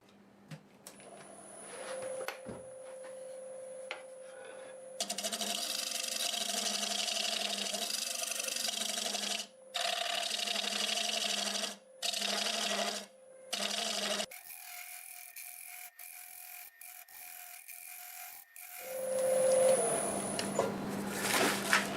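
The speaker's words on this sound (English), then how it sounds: "I'm going to go ahead and use my Negative Rake Scraper on it to do the blending," A lathe spins a walnut bowl while a negative rake scraper works the surface, giving a steady whirring hiss broken by several abrupt stops and restarts as cuts pause, with a motor whine between.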